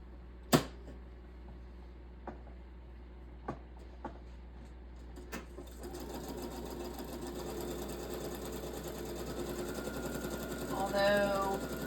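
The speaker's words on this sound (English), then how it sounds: "I'm going to do it on camera since I've determined that my sewing machine isn't that loud." A sewing machine whirs steadily after a few scattered clicks and taps, its motor hum building and running continuously at moderate volume.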